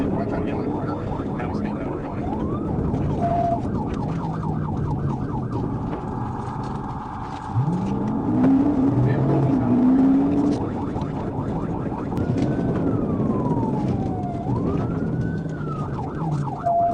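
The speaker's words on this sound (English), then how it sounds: "keeping his distance while the siren and lights were activated" A police car siren wails during a high-speed pursuit, its rising and falling tone repeating over a constant road and engine roar, with talk running underneath throughout.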